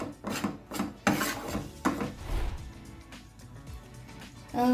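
A spoon scrapes and stirs turmeric into corn oat upma in a pan, several close rasping strokes with brief pauses between them.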